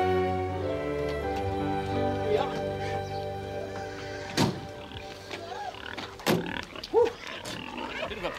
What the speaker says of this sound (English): See what 200 piggies look and sound like.